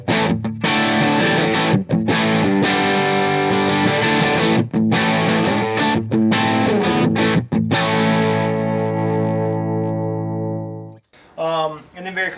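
Electric guitar through a Tyler JT46 amp with an overdrive pedal as a second gain stage, loud, thick distorted chords and riffs ringing out, ending on a long sustained chord that fades before a brief final strum.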